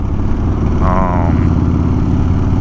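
A 1984 Harley-Davidson FXRP motorcycle engine running loud and close while riding, a steady rumbling drone with a brief rising whine as gears are shifted.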